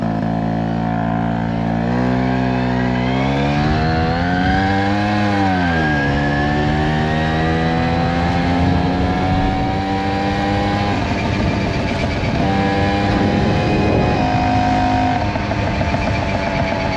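A moped engine runs with the throttle held slightly open, a loud close buzzing drone that rises and dips in pitch as the revs shift, with no speech.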